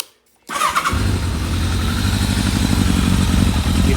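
After a brief silence a 2002 Kawasaki ZRX1200R motorcycle with a Yoshimura exhaust cranks and catches, then settles into a loud, rapid, slightly uneven idle close by.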